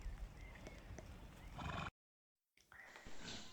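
A horse whinnies loudly with hooves clip-clopping, cut by a brief silent gap before the sound resumes.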